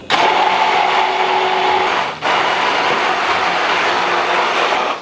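An immersion blender whirs in a maple syrup sauce with peanut oil, a loud steady motor drone that dips briefly midway, then resumes at full strength until it cuts off.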